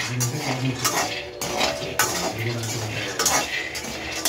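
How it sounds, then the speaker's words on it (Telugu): A ladle scrapes and clinks against a pan while peanuts roast, with steady stirring strokes close by under a faint background hum. "ఇలా గంటతోని కలుపుతూనే ఉండండి, లేకపోతే పల్లీలు అనేవి మాడిపోతాయి."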